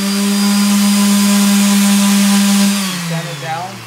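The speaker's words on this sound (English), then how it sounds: "The best way to do it yourself, one of these sanders." A power sander works a small trim area during a home renovation, giving a loud, steady whine that holds evenly for a few seconds and then winds down as the motor slows.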